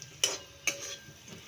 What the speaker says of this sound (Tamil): நல்லா கிண்டி விட்டுக்கோங்க.